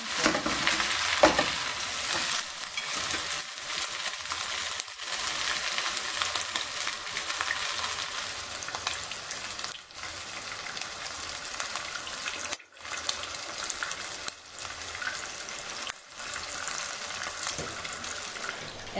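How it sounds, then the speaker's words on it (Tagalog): Morcon frying in hot oil until golden brown, a steady close sizzle and crackle that runs unbroken for the whole stretch, with a few brief dips and occasional stirring clatter. "Ito po, habang piniprito natin siya, maging golden brown, gagawa na tayo ng syrup niya."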